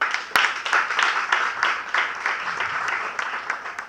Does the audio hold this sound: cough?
no